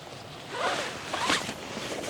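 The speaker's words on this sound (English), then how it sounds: "To roll up this window, unzip it on both sides fully" A rooftop tent window zipper is pulled open, giving two quick close rasping zips over quiet outdoor background.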